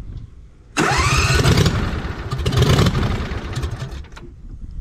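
New lawn mower engine cranking and starting without a muffler, bursting into a loud raw roar, sputtering and revving unevenly before settling into a rough run, close by.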